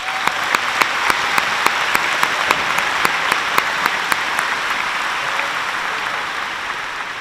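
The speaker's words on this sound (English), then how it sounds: "A round of applause for them." A graduation ceremony audience applauds the class of 2022, with dense sustained clapping and several sharp individual claps standing out, slowly tapering toward the end.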